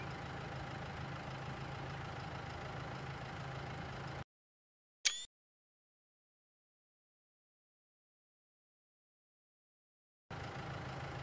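Tractor engine idling in Farming Simulator 19, a steady low rumble that runs for about four seconds, cuts out abruptly into silence, and then returns near the end.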